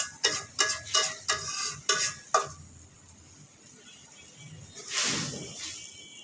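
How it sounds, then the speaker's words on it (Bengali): Big fish being stirred and sautéed in spice masala, with a rapid series of scraping, clattering strokes in the first seconds, then a soft sizzle and one brief rustling scrape near the end. "বড় মাছ তো একটু ভালো করে কষাইতে হবে সময় নিয়ে, যাতে মশলাগুলা ভিতরে ঢুকে যায়।"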